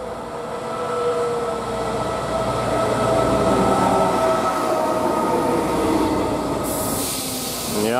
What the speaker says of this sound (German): Der hält hier jetzt auch, Regio von Bozen nach Verona